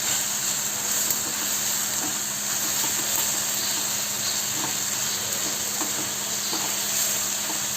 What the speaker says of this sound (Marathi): यामध्ये अद्रक लसूण पेस्ट ही छान परतून घ्यायची आहे।